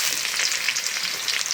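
Garlic fries in a hot pan while lentil dal is being prepared, giving a steady, dense sizzle with a constant crackling hiss that stays close and fairly loud throughout, and no voices.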